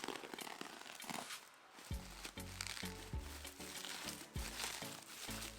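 Blade cutting open a cardboard box, a run of short scraping, crinkling cuts in uneven rhythm, close and faint.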